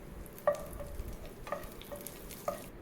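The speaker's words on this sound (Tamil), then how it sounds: "அது நல்லா பொரிஞ்சு வந்தப்புறம் கொஞ்சம் கருவேப்பிலை ஆட் பண்ணிக்கோங்க." Cumin seeds and curry leaves crackling in hot oil for a beans stir fry, with a soft steady sizzle broken by a few sharp pops and spits spaced about a second apart, close and fairly quiet.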